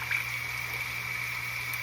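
Running water rinsing makeup brushes, a steady close faucet stream with a constant hiss and faint tonal hum, no talking.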